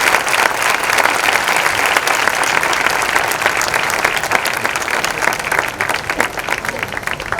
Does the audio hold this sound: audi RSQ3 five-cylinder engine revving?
no